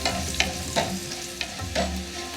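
Kerala-style green beans stir-fried with grated coconut and turmeric in a pan, a constant soft sizzle broken by several crisp stirring scrapes, with no talking.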